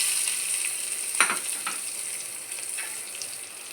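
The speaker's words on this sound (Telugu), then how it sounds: "ఈ దోసకాయ పచ్చడిలోకి తాలింపు వేసుకుందాం ఫ్రెండ్స్" Hot tempering is poured into Andhra-style cucumber chutney, giving a close, crackling sizzle with a few sharp spits and bursts that gradually settles into a softer hiss, with no voices.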